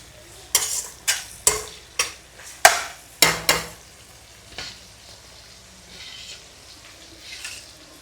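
Tomatoes and green chillies sautéing in a pan, with a run of sharp, evenly spaced spatula stirs and scrapes over a faint sizzle, the strokes thinning to a soft, quiet fry.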